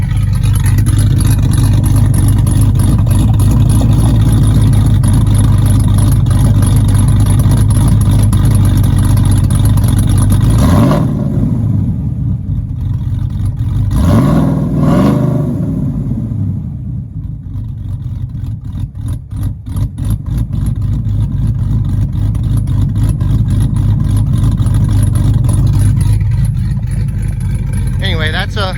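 A loud supercharged 5.4-litre 2010 Ford F-150 engine roars and revs hard with exhaust cutouts open, the pitch dipping and climbing as the throttle rises and falls, close and continuous.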